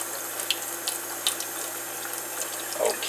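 Tap water runs steadily into a sink while heirloom beefsteak tomato seeds are rinsed, a continuous hiss broken by a few soft splashes and drips.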